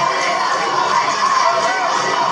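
Godinez Grizzlies fans cheer loudly throughout a CIF Southern Section Division 4 soccer final against South, a dense, steady roar of crowd voices with no break.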